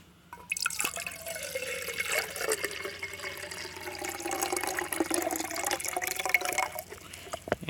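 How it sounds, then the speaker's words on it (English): Water splashes and trickles into a Jetboil Flash stove's container, a close, continuous pouring with small drips and gurgles that fills out as the level rises. "I'm going to put some water in my container first"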